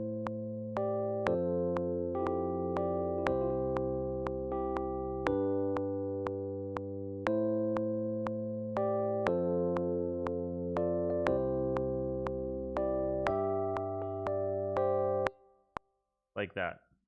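GarageBand song played back from bar 17, a steady electronic arrangement of sustained chords and repeating pulses that runs for about fifteen seconds before stopping, followed by a short burst of other sound.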